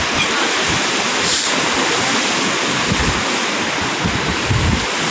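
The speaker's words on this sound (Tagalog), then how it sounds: "malakas ang alon mga kapising." Strong typhoon-driven surf on Manila Bay roars steadily and loudly, with a continuous rushing wash of breaking waves and no voices.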